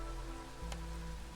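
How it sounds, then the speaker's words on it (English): Soft, steady rain patters on surfaces in the Against the Storm city-building game, a faint continuous hiss with a low hum beneath and one brief tick. "Bit of rain,"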